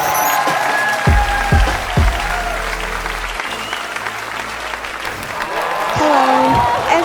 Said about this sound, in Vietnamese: Một tràng pháo tay để chúng ta có thể chào đón đạo diễn Phan Gia Nhật Linh.